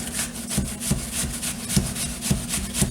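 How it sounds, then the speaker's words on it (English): A vegetable slid back and forth across a box grater for a garden harvest cake, giving steady rhythmic rasping strokes, close and clear with no talk. "when you set the grater down, you're going to set it down and you're just going to slide it back and forth"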